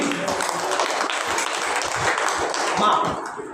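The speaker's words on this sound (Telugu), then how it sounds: "గట్టిగా చప్పట్లు కొట్టామండి" A church congregation at Sunday worship clapping hands loudly, a dense, sustained roar of applause filling the hall, with a voice faintly heard beneath it.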